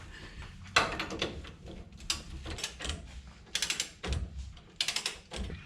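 A ratchet wrench clicks in several quick bursts as it loosens strut bar bolts under a 1969 Ford Mustang. The bursts are close, with short pauses between them.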